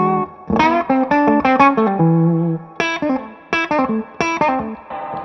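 Electric guitar played through a Two Rock Classic Reverb amp with the bright switch on, giving bright, distorted single notes and short phrases with pauses between bursts, loud and close with reverb tails.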